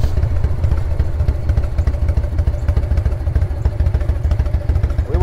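A 1997 Harley-Davidson Fat Boy with a Dyna 2000i ignition, ridden along a road, gives a loud, steady, throbbing engine rumble that holds throughout with no one talking.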